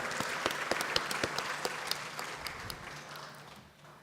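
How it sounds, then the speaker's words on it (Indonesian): An audience at an ITB engineering graduation ceremony applauds the graduates' parents and families, a steady wash of clapping that gradually fades out toward the end. "berikan tepuk tangan, aplaus ya untuk orang tua dan keluarga"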